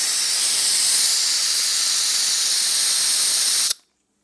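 Steady loud hiss of a vacuum tester drawing air through a cylinder head valve seat, a constant airy rush that holds evenly for several seconds and then cuts off abruptly into silence.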